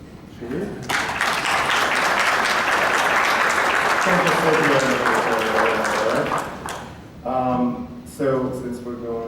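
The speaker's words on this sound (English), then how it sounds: "We were supposed to clap after this, right? Should we?" Audience applause fills a celebration-of-life gathering, sustained dense clapping for several seconds with voices breaking through as it fades near the end.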